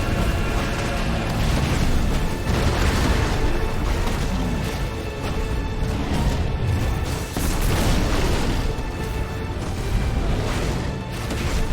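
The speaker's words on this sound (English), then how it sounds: "Hold and release R2 and square to emit a violent explosion" In the Final Fantasy XVI video game, Brimstone, Titan's ability, unleashes a violent explosion, heard as dense rumbling booms and crashing blasts that continue loud and heavy for the whole stretch.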